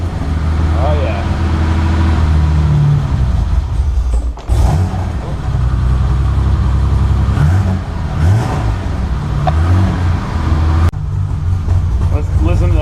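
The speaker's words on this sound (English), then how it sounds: "Let's listen to that M30 purring." A car fitted with a canned BMW M30 engine runs steadily and loud up close, a continuous low rumble with slight shifts in pitch throughout.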